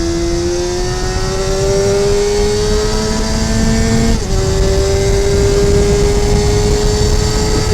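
A Honda CBR250RR MC22 motorcycle engine is held at high revs. Its loud, steady, close whine dips briefly near the middle and then carries on, with no talking.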